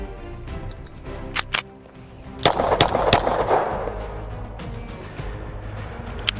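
A Star 30M pistol fired to test cycling: two sharp close shots in quick succession, then a rougher burst of clattering reports, with scattered clicks afterward.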